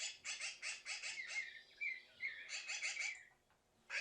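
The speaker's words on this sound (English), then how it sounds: "Laughing magpies seemed to enjoy the show" Magpies in the western USA call in rapid bursts of harsh, chattering notes, a few squawking phrases repeated close and clear against a quiet background.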